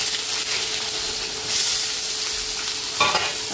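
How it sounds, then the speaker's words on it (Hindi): Onions tipped into a pan of hot oil with dried red chillies for a Bihari-style egg curry. A loud, continuous close sizzle swells as they hit the oil, with a stirring scrape near the end. "अब इसमें हम प्याज को डाल देते हैं।"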